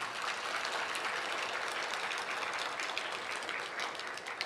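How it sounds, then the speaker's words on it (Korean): Steady applause from a church congregation during a Sunday sermon, dense clapping filling the whole stretch at an even level with no voices breaking through. "박수, 박수, 박수."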